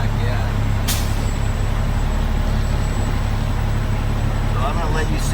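A 2013 Peterbilt 386 daycab tractor with a 450 HP Cummins idles with a low steady engine rumble while its air brake gives a sharp, brief hiss early on, heard close up.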